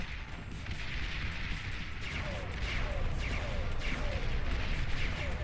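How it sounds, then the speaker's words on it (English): Artillery fire in the strategy video game Beyond All Reason hits units in a rapid series of crackling, booming impacts over a dense rumbling battle din. "Enigma getting hit by the artillery"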